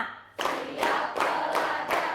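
Five rhythmic unison claps from a class of students ring out in a steady pattern, each a bright, close burst of many hands striking together.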